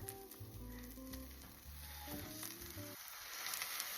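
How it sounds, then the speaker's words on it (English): A pastrami and cheese sandwich toasts in a covered pan, giving a steady, soft sizzle that stays in the background beneath quiet music. "We'll let one side toast for a little bit and then we'll flip it."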